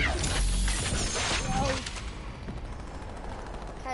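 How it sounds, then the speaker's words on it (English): A sharp sniper rifle shot in a video game, punchy and loud at the start, with a short rumbling decay trailing into quieter game ambience. "I sniped it."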